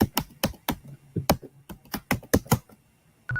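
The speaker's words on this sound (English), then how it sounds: "I think you're typing too fast." Rapid typing on a computer keyboard, a quick irregular run of sharp, close key clicks that stops briefly near the end.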